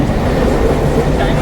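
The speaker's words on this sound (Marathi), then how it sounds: "टायमाच्या नंतर ट्रेन भेटली." A crowded passenger train runs at a Mumbai station, giving a loud, dense, continuous rumble with low mechanical drone and no clear pauses, heard up close.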